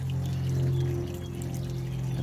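Water runs steadily through the roots of plants in a fish-fed aquaponics bed, a continuous loud pouring and trickling wash with a low pump-like hum beneath, no voices.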